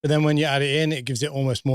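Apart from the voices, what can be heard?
No everyday noise stands out behind the speech.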